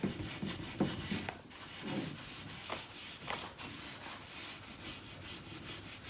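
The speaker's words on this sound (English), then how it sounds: "we're just going to rub off any remaining finish that is on here" Steel wool rubs remaining varnish finish off wooden molding in repeated back-and-forth scrubbing strokes, close and fairly quiet, with no voices.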